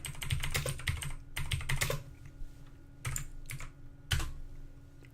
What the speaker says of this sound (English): So just type in the URL